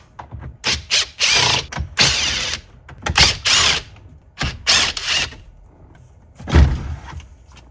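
Small 7mm screws being driven out of the radio module of a Ford F150, several bursts of a power driver or ratchet whirring in short runs with pauses between, close and loud.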